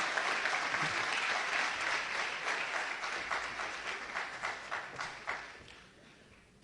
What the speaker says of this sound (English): please give a big round of applause once again for that fantastic session